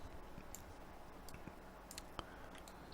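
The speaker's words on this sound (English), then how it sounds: "let's add a key ourselves by clicking the manual add key button" A computer mouse button clicks in animation software, giving a few faint, sharp ticks against quiet room noise.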